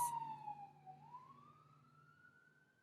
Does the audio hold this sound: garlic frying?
no